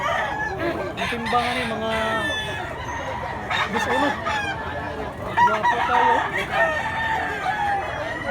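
A bullstag rooster crows repeatedly at a cockfighting farm in Mantalungon, Cebu, its calls loud and close over a busy mix of other clucking fowl, while people talk throughout.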